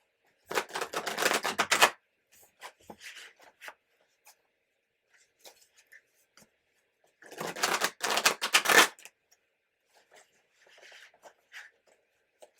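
Tarot cards being drawn from a deck: two short bursts of shuffling and sliding card noise separated by a quiet stretch with faint taps and rustles.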